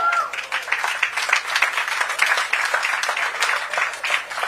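An audience applauds at a Hollywood Walk of Fame ceremony honoring Ellen Pompeo, a dense, steady wash of many hands clapping that holds throughout without a break.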